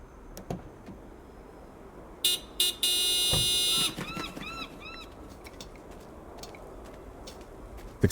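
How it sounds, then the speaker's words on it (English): A car horn sounds in the video game Broken Sword 5: The Serpent's Curse, with a short blast and then a loud, sustained honk lasting over a second, followed by a run of squawking gull-like cries. "Do me a favor and honk the horn."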